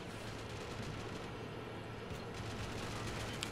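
Machine gun position in Call of Duty: World War 3 mod firing on troops on the ground, a dense unbroken rattle of rapid fire with steady rumble, continuous and fairly distant-sounding.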